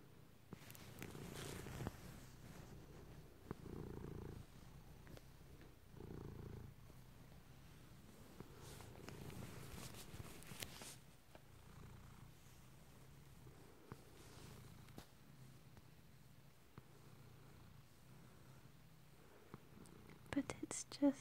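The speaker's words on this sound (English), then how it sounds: "relaxing to just have a cuddle with a cat that is just purring" A cat purrs softly in a bedtime cuddle, a faint low rumble that comes in slow repeated waves under quiet whispered talk.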